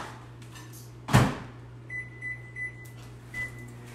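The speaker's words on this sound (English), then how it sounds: "Let me go ahead and microwave one because then I'll show you what it looks like when it's done." Microwave oven heating a tortilla: a loud clunk of the door closing, then a steady low hum from the running oven with a series of short beeps as it is set.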